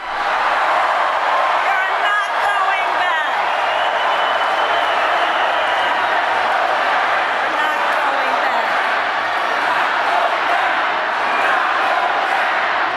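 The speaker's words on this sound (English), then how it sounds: "this massive crowd chanting, "We're not going back" in Las Vegas" Massive crowd at a Kamala Harris political rally in Las Vegas, Nevada chanting in unison, a loud continuous roar of many voices with cheering and whoops filling the whole stretch.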